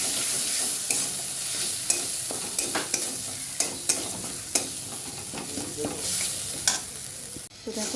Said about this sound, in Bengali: হলুদ ভালো করে কষিয়ে নেবো মশলাটা